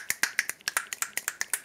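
Fingers snap rapidly about fourteen times in an even, quick rhythm, crisp and close, with no talking.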